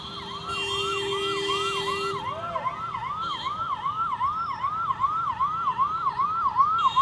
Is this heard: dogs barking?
no